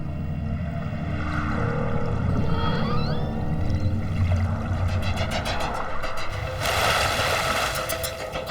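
An orca matriarch gives a short rising whistle-like signal call before a penguin hunt, fairly faint against steady ocean, wave and boat noise.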